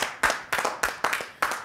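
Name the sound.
audience applause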